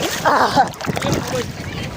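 Sea water splashes and sloshes around bathers at Shivrajpur beach, close and choppy, with people talking over it.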